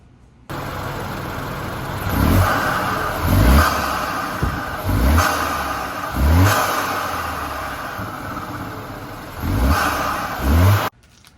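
A BMW F30/F32 engine fitted with an Injen Evo 1103 aftermarket air intake revs up repeatedly in several strong bursts, each climbing and falling back to a rumbling idle, loud and close.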